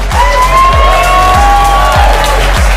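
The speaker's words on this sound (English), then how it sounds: "let's give them a big round of applause as they come on out" Crowd at a summit event cheers and whoops over clapping, loud and continuous, with a pounding rhythmic walk-on music beat thumping underneath.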